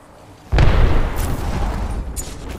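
An Arc Star grenade goes off in Apex Legends with a sudden loud electric boom that holds as a dense crackling rumble for about two seconds, a brief sharp zap flaring near the end.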